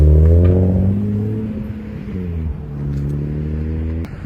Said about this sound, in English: It's the traffic.